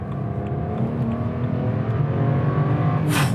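A 2011 BMW 1M's engine pulls hard under acceleration, a loud, steady, rising drone close by with no talk over it.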